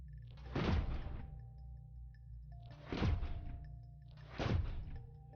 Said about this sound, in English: That's just the firing.